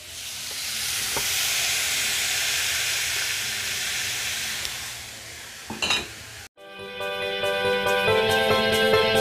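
Steaks sear in a hot pan with a loud, even sizzle and hiss for about six seconds, broken by a brief clatter, before the sound cuts off abruptly and tonal music takes over.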